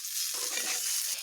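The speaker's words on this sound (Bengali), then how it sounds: "ও পটলগুলোকে ভেজে রেখেছিলাম ছেড়ে দিচ্ছি আমি সেগুলোকে।" Pre-fried pointed gourd pieces drop into a hot pan of oil and set off a loud, steady sizzle and crackle, with stirring scrapes close by and no voices.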